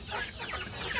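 Free-range layer chickens cluck and squawk in a busy overlapping chorus as they crowd their feeder at feeding time, close by and steady throughout.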